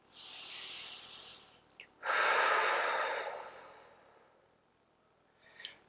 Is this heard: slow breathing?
yes